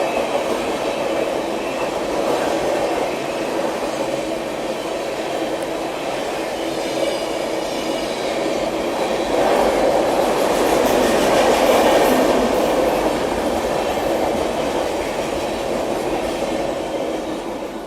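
An Amrit Bharat Express train running on rails, a steady loud rumble of wheels and carriage noise with faint clickety-clack, heard from on board throughout.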